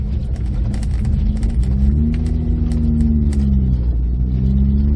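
A 1969 classic car without power steering being driven, its engine droning loud and steady throughout with a low rumble and rising, shifting engine tones as it pulls along, no talk heard.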